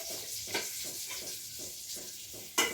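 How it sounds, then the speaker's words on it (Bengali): Eggplant slices frying in a pan make a steady broadband sizzle with soft periodic stirring scrapes and a sharper clink near the end, close and continuous with no talk. "ওদিকে এক ব্যাচ বেগুন ভাজা হলো, আরেক ব্যাচ বসিয়ে দিলাম"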